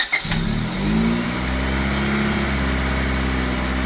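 A freshly swapped Honda Civic Si engine that has just started runs steadily, rising briefly in pitch before settling into an even, rumbling idle.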